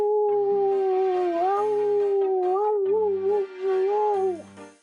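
A person imitates a dog, voicing a continuous howling, yipping dog-like call with wavering pitch for about five seconds, close and loud, with brief breaks near the end.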